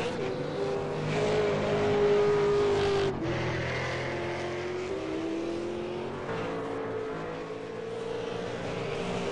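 Osborne's V8 Supercar in an online racing game powers out of a slide at Interlagos during qualifying, its engine note held loud and steady with a brief dip partway through, no voices over it.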